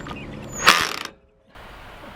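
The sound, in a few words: driving a self-tapping screw into a storage shed beam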